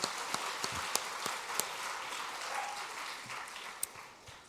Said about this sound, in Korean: 예, 축복의 박수합니다.